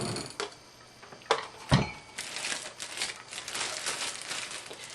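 Shrinkwrap sealer bars are pressed down onto plastic wrap: sharp clacks and thumps from the bars come first, then a soft, continuous crinkling of plastic, all close and fairly quiet.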